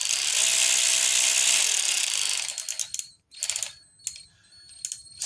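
Kimo cordless ratchet spinning freely at speed for about two seconds with a loud, continuous whir. It then winds down into several short, quieter bursts of clicking and whirring as the trigger is feathered.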